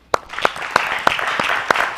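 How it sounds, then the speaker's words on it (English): Congregation clapping in a church service, sharp separate claps in a loose steady rhythm over a low murmur, close and fairly loud. "give me a hand clap"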